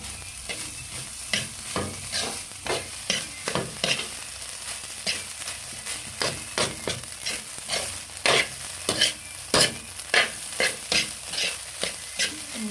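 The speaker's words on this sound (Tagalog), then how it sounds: "Fried rice lang guys, simple fried rice. Ayan. Yan. Niluto sa panggatong." Fried rice stir-fried over a firewood fire in a provincial setting crackles and sizzles under repeated rhythmic spatula scrapes and tosses, close and fairly loud, with no talking.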